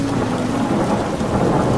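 Steady drizzling rain hisses continuously, with a low rumble of thunder rolling beneath it throughout, close and even.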